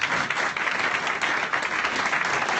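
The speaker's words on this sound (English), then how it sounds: "Give a round of applause" An audience at a live show breaks into a dense, sustained round of applause and clapping, loud and steady throughout with no distinct voices over it.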